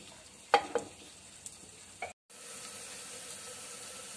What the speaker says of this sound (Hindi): प्याज को हल्का सा पिंक कर लेते हैं।